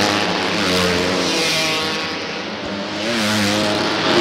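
250cc Kage racing karts roar down the front straight at Salem Indoor Speedway, a loud sustained engine drone that dips briefly and swells again, with no talk.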